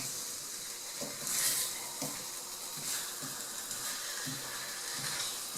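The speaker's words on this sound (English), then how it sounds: "Stir it around. Keep stirring." Chicken curry sizzles steadily in a pan while being stirred, giving a soft continuous frying hiss broken by faint scraping strokes about once a second.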